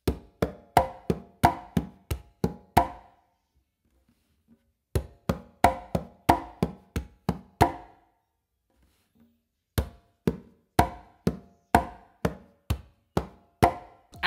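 Conga hand strokes in a 3-2 son clave independence exercise, with bass tones from one hand and closed slaps from the other. Crisp, close, evenly spaced hits come in three bursts of about three seconds each, separated by short silent pauses.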